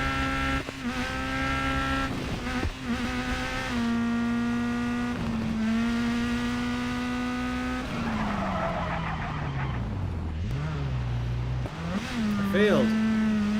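Rally car engine from the WRC 10 racing game on tarmac, a steady loud harmonic drone that holds pitch, drops at a gear change, dips and climbs again near the end, with a voice talking over it.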